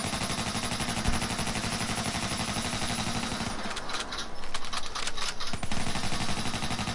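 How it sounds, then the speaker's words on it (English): Rapid overlapping gunfire from two players shooting together in a PS4 video game, a dense continuous burst of shots throughout, with sharper individual cracks standing out near the middle. "Synchronized shooting."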